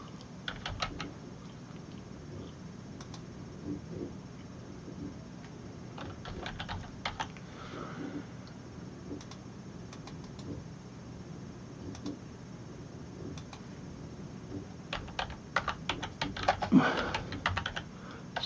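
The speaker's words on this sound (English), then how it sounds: "Sorry about the keyboard." Someone types on a computer keyboard during a live unboxing: faint, scattered key clicks that thicken into a quicker, louder burst near the end, with no talking.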